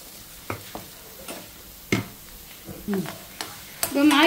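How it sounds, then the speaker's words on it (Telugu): Mustard oil with amla gooseberries heating in a pan, with scattered scraping stir strokes and soft bubbling, close and fairly quiet, building to a brighter sizzle at the end. "ఇలా మరగాల నూనె, ఇలా పొంగు వచ్చి ఇలా మరిగిన దాకా కొద్దిగా కలుపుతూ ఉండండి"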